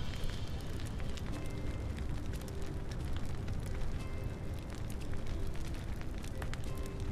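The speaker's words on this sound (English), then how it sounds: "Dancing around the bonfire with all my friends." A bonfire in the farming life game My Time at Sandrock crackles and roars steadily, dense popping and hissing over a low rumble throughout, with no voices.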